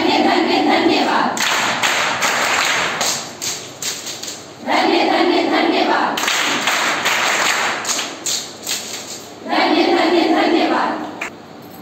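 Bursts of rhythmic group hand clapping from a Bharat Scouts and Guides clapping exercise, loud and close, in three sustained rounds separated by short gaps with chanting voices between them.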